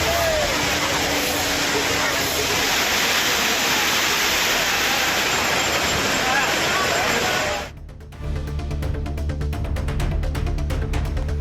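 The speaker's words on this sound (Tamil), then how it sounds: "ஜில்லென்று ஆர்ப்பரித்து கொட்டும் நீரில் உற்சாக குளியல் போட்டனர்" Water gushes down the Courtallam waterfalls where tourists bathe, a loud continuous broadband roar that cuts off abruptly near the end, with a voice speaking over it.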